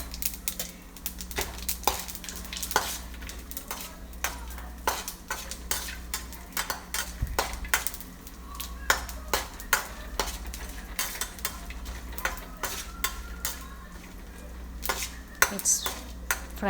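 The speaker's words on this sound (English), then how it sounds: "the oil is nice and hot now. Now I'm adding all my garam masala," Whole garam masala spices frying in hot oil in a pan, with a steady sizzle beneath frequent sharp scrapes and clinks of a metal spoon stirring, close and busy.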